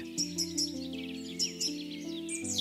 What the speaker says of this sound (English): Red-breasted parakeet.